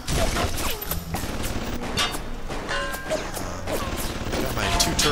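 Automated turrets in BioShock fire on a Splicer in a dense, rattling burst of gunfire and impacts, loud and continuous, mixed with clanking game effects.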